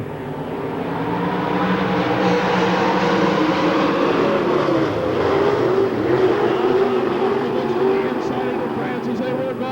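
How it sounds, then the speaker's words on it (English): Race cars accelerating at a fair race on Hamilton County Speedway in 1993, a loud sustained engine roar swelling and shifting pitch as the field goes back to green, with a track announcer talking over it. "He's your race leader here, and the throttles go down, and we're back to green"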